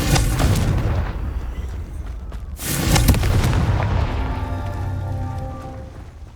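The Confringo blasting spell in the video game Hogwarts Legacy sets off a loud, close explosion: a heavy boom at the start, then a second sharp blast with crackling debris and rumble that slowly fades.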